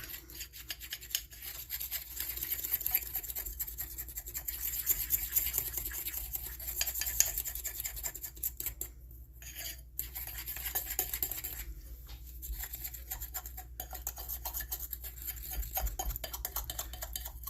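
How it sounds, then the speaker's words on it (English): Apple fritter bread batter being stirred by hand in a bowl, a steady close scratching and rubbing texture that continues throughout with brief pauses. "Just keep mixing it up."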